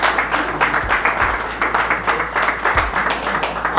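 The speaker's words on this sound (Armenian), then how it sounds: "մրցանակ տամ հատուկ իմ կողմից եւ մրցաշարի կազմակերպիչների կողմից ծափահարեք" A crowd claps steadily in dense, even applause for a prize presented at a chess tournament, the sound holding at a constant level throughout.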